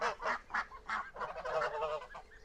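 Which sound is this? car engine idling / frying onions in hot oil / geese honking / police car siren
geese honking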